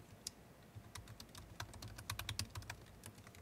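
Rapid, uneven keystrokes on a computer keyboard clatter close by in a quiet room, bursts of clicks with brief pauses and no talking.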